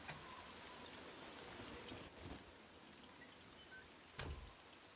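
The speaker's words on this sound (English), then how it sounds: "I guess even the zombies don't like the rain." Steady rain pours down in the zombie survival game SCUM, a dense continuous hiss of drops drumming on surfaces, with two brief louder splashes or thumps partway through and no voices.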